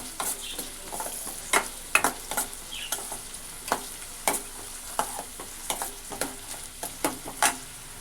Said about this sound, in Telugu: పచ్చిమిరపకాయలు వేసాను, పచ్చిమిరపకాయలు కూడా కొద్దిగా వేయించడం.